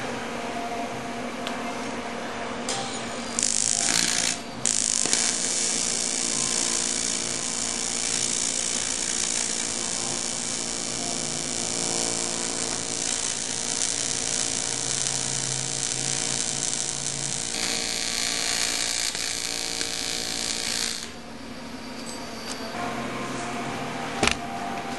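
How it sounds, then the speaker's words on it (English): A steady electrical buzz and crackle runs for about twenty-five seconds, near and fairly loud, pausing briefly a few times, as a corroded aluminum cylinder head from a Ford Mustang 3.8-liter, preheated to about 450 degrees, is welded. "I'm going to start the welding process"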